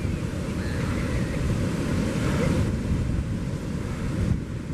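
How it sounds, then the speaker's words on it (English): Large ocean waves wash continuously onto a beach at St Lucia in the late afternoon, a steady loud roar of surf with heavy wind buffeting the microphone throughout and no talking. "Yo, there's some major waves washing here"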